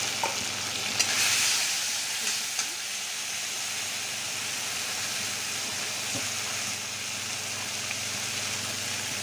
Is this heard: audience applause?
no